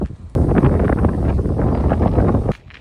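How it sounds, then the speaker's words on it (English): Strong wind at Malmö castle in Sweden, loud roaring buffeting across the microphone that starts suddenly and cuts off just as abruptly after about two seconds. "The wind here is really strong."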